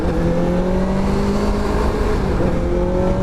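A Benelli TNT600i motorcycle engine revs hard and holds at a high, steady whine, loud and close, with a slight rise in pitch.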